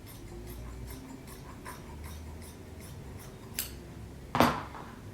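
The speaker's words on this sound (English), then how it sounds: "just put your scissors in between the layers and just cut it open" Quiet, repeated snipping of scissors cutting through layered fabric, a soft rhythmic series of cuts followed by a couple of sharper louder snips.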